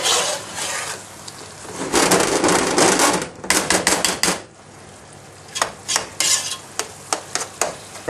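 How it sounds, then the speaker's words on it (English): Salted onions sizzle in a pan for a takeaway-style staff curry while a utensil stirs and scrapes through them, producing loud, continuous frying hiss broken by bursts of clattering strokes, close up with no voices. "I'm sure you don't want to watch onions cooking."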